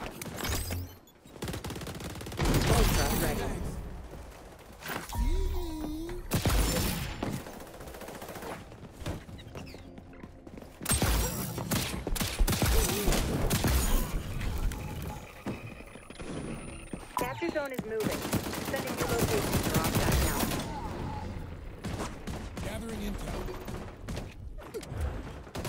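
Rapid AK rifle bursts in a first-person shooter game, loud, close and repeated in clusters amid other gunfire, clanking mechanisms and someone talking over the action.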